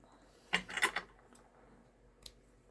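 Scissors snip along the edges of decorative paper for a stamped gift bag craft, a few quick close cuts clustered together followed by one faint later snip in a quiet room.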